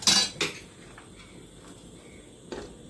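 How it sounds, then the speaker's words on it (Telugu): Bitter gourd pieces tipped into a pot of simmering mutton curry, giving a few sharp metallic clinks and scrapes of utensil against the pot, loudest at the start and then sparse, with no talk. "ఇప్పుడు వేస్తున్నాను కాకరకాయ దీంట్లో"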